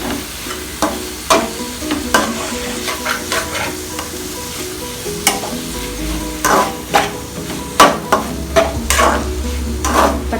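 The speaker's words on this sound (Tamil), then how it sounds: "தக்காளி நல்லா வெந்து ரெண்டும் வெங்காயம் தக்காளி எல்லாம் சேர்ந்தாப்புல வர வரைக்கும் கொஞ்சம் நம்ம வந்து நல்லா வதக்கணும்" Onions and tomatoes sautéed over a high flame for egg khurma, a loud continuous sizzle broken by repeated sharp spatula scrapes and stirring knocks, close and without talk.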